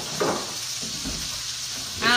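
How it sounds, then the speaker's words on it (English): Chicken marsala sizzles steadily in a hot pan, a continuous hissing fry with brief voices and a louder burst near the end. "They couldn't hear you over the sizzle."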